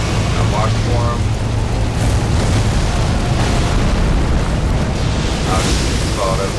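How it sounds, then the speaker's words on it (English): A dense, sustained explosive roar from a boss fight in Elden Ring Shadow of the Erdtree, loud and continuous with rumbling bursts throughout and faint voice-like traces underneath. "I'll just caught up with the explosion."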